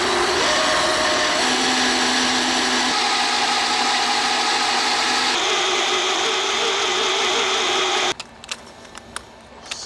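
A power tool runs steadily and loudly while sharpening a drill bit in a boatyard, its grinding whine shifting pitch a few times before it cuts off, followed by a few faint clicks.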